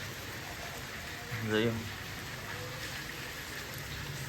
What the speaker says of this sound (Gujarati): વરસાદ જ એટલો આવે છે